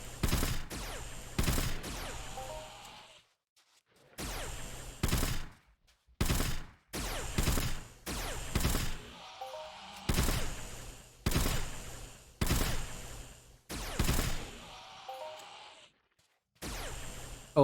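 Gunfire from weapons in the online game Entropia Universe while hunting small yog creatures on Monria, loud rapid bursts of shots in repeated volleys separated by brief silent gaps, with no talking.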